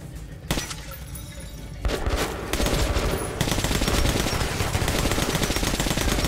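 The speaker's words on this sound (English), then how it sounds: "Shot me with a shotgun." Enemy shotgun blasts and gunfire in Metro 2033 Redux, a dense burst of loud shots and crashing impacts that swells after the first couple of seconds and keeps up as a heavy, continuous barrage.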